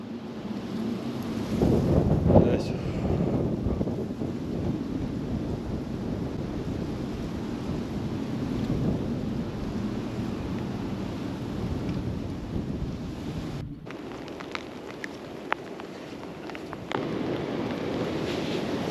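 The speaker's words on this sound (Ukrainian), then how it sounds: "Ну а вітер такий звіється, аж" Strong wind roaring and gusting outdoors on a February fishing outing, a sustained low rush with occasional buffets against the microphone, no talking.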